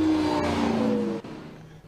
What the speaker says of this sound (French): Axel François très rapide aussi avec la GT86